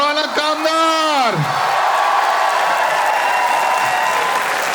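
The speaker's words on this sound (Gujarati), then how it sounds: "Huge round of applause" A voice briefly announces, then an audience at a live show breaks into loud, continuous applause that fills the rest of the moment, broad and steady from many hands.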